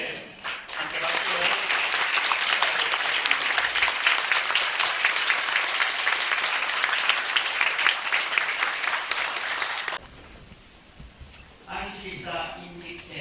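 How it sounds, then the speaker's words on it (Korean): Congregation applauding at a church ordination and installation ceremony for new deacons and elders, steady full clapping for about ten seconds that stops abruptly, followed by faint speech. "함께 박수."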